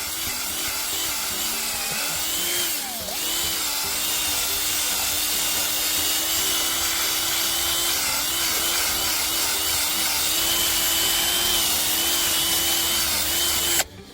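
A drill bores a hole at a 45-degree angle into a tree trunk with a steady, loud, grinding whine that runs almost unbroken, dips briefly near the start, and cuts off abruptly at the end.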